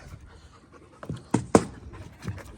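A dog pants close by in quick breathy bursts, with a few louder huffs in the middle, against a quiet background.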